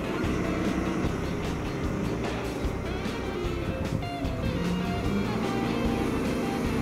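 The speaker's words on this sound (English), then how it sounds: "keep pushing the gas, buck it up, pull that material up" A John Deere 824K-II wheel loader drives into a material pile, its engine droning loud and steady with broadband rumble and mechanical clatter throughout, no voices over it.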